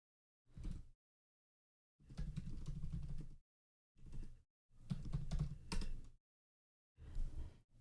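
Computer keyboard typing into a terminal while installing and running TypeScript, coming in about five short bursts of quick, close keystrokes separated by silent gaps, with no talking.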